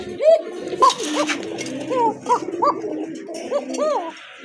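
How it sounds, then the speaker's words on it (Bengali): A pair of koka pigeons coo close by in a repeated series of soft, rising-and-falling calls, steady throughout. "খুবই চমৎকার কোকা কবুতর এক জোড়া"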